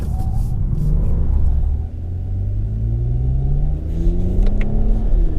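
A 2020 Toyota Avalon TRD with a V6 engine accelerating from inside the cabin, its low engine rumble climbing in pitch as it revs up through the gears, steady and close with no talk.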